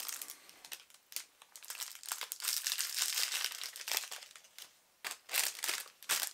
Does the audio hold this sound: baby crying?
no